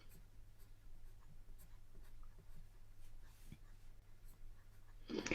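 White chalk is drawn across black paper with a soft, quiet, scratchy rubbing in scattered light strokes. A louder rustle comes near the end.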